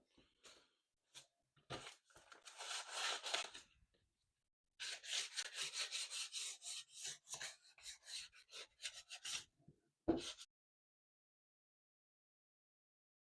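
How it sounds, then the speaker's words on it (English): Sandpaper rasping over the wooden stock of an 1863 Remington contract rifle, quiet close-up strokes in irregular bursts with pauses between them, ending in one sharper knock. "now that we are done sanding, getting everything down nice and soft, even"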